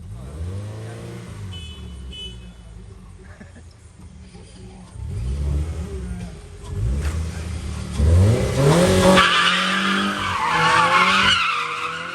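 A car skids and slides through city streets at night, engine revving up and down in long sweeps with tire squeal, growing louder and more frantic toward the end.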